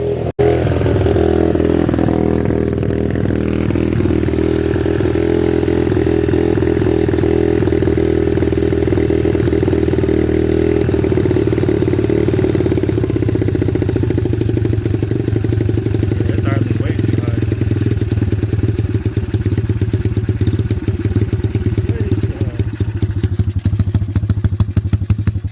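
An Xpro 125cc dirt bike engine running rough and smoking from a bad air-fuel mixture, a loud close continuous idle with a low throbbing drone and rattly pulses over the whole stretch.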